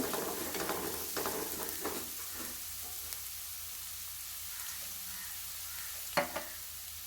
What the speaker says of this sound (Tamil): ஃபஸ்ட்டாக வெங்காயத்தை போட்டு வதங்கின பிறகு பச்சை மிளகாய் சேர்த்துட்டு அதன் பிறகு கேரட்டையும் சேர்த்து நல்லா வதக்கி விட்டுக்கலாம்